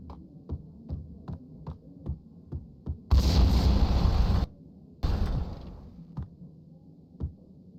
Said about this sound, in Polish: Dobra, tutaj coś wybuchło.